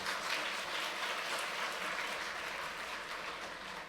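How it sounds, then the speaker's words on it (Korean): A church congregation at a Sunday service claps in welcome, a dense, even wash of applause heard somewhat distant and soft, holding steady throughout. "우리 힘차게 환영의 박수 한번 하도록 하겠습니다."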